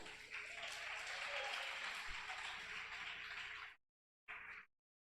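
Congregation applauding during a church worship service, a steady broadband wash of clapping for several seconds that cuts off abruptly, followed by a short final burst.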